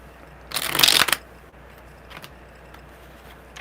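Tarot cards being shuffled, a dense papery riffle lasting about half a second and fairly close, then near quiet with a couple of faint soft card taps afterward.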